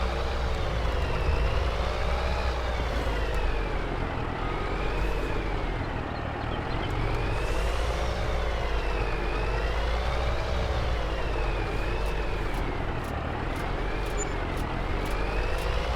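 A truck in Farming Simulator 22, towing a trailer on the Hills of Tuscany map: a steady engine drone whose pitch rises and falls in slow waves as it revs and eases, loud and continuous with no talk.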